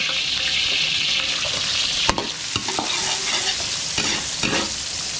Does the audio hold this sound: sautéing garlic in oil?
yes